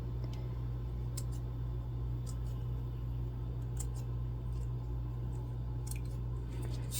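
Scissors trim fabric for a Zora shoulder bag in a few scattered, crisp snips over a constant low electrical hum.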